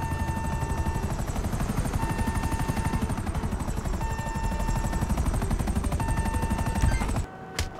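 Helicopter in the GTA Online video game, a loud, fast rhythmic rotor chop thumping steadily for several seconds before cutting off abruptly near the end.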